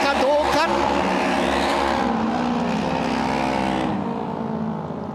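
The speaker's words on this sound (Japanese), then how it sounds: "最後の直線に入る切り返す8番の金子" Auto race motorcycles at Sanyo Auto Race speedway on a wet track, engines roaring close as they pass on the final straight, the pitch sweeping and then fading away, with a race commentator talking over them.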